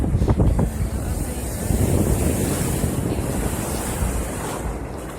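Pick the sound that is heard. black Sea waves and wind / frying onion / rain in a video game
black Sea waves and wind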